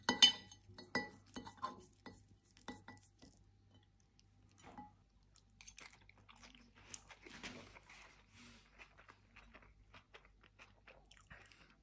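Someone eats spaghettoni with anchovies, olives and crunchy toasted breadcrumbs, with close, quiet crunching and chewing plus light clinks of cutlery against glass and a plate, a busy clatter early on, then scattered bites.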